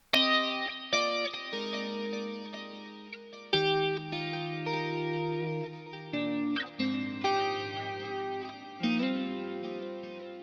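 A clean electric guitar plays ringing chords and single notes through a Line 6 Helix, shimmering with chorus and echo effects, each phrase sustaining and decaying between new strums.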